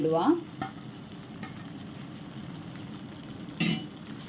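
Fried prawns stirred into a Mangalore-style ghee roast, a soft steady sizzle with scraping stirs and a few light clanks of a spatula against the pan, the loudest scrapes near the start and close to the end.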